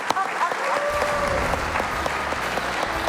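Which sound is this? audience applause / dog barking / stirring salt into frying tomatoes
audience applause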